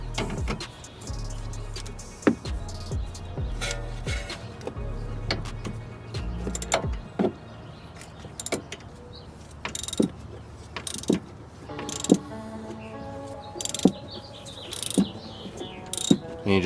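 A T30 Torx bit is spun by hand to tighten a sway bar end link on a BMW 328i xDrive E90, making steady ratcheting clicks and light metallic ticks, close and fairly quiet, with a few scattered knocks.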